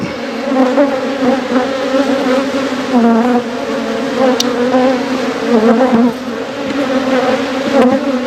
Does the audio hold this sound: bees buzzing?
yes